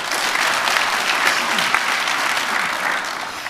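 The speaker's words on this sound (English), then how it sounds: "Let's give them a round of applause" Audience applauding at an awards presentation during an annual dealer conference, a dense, steady burst of clapping from a sizeable crowd filling the room, with no talk over it.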